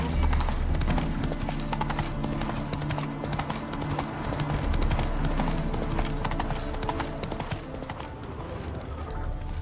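Steady clip-clop of horse hooves in The Witcher 3, a continuous trotting rhythm at moderate loudness over low ambient game sound, with no talk.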